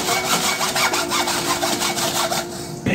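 A hand saw cuts through the trunk of a tall papaya tree in steady back-and-forth strokes, close and fairly loud, with a rhythmic rasping that stops abruptly at the end.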